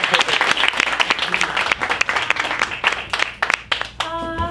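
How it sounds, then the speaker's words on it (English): An audience at a ParentProv improv show gives the performers a lively round of applause, with loud, dense clapping throughout. A voice comes in briefly near the end. "Let's give Jill and Dan a round of applause."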